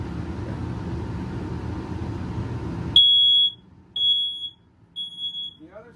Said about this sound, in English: The other safety device is going to be a smoke alarm, simple 9-volt battery, so you can test it to make sure it's working.